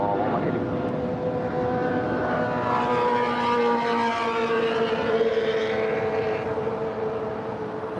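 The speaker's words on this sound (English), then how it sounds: "And that is Singapore Airlines flight number 11 heading to Tokyo Narita. It's a 777-300ER." A Singapore Airlines Boeing 777-300ER jet at Los Angeles airport gives a steady, continuous engine roar with tonal whine, moderately loud and sustained throughout, with faint radio chatter or voices in the background.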